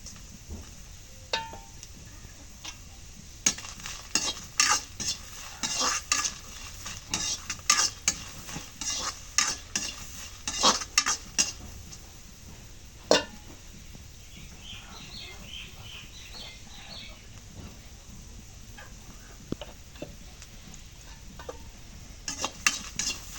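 Garlic, chili and onion stirred in a frying pan while cooking potato and pointed gourd, with a steady faint sizzle under repeated clinks of a utensil against the pan and occasional louder scrapes.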